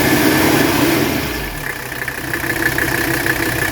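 A 1985 Mercedes 300CD engine idling with its oil filler open for a blow-by check, a steady close mechanical rumble that softens slightly midway and then holds even, with no talking over it.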